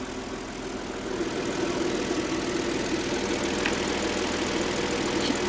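A Kia K7 LPG car engine with 170,000 km runs steadily, a continuous mechanical hum with faint rhythmic knocking, heard close up without any talking.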